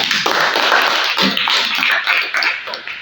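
A classroom group applauds a student named Naira with dense, continuous clapping that stays fairly loud and close for about three seconds.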